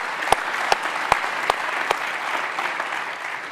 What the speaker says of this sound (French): vous pouvez l'applaudir, bien sûr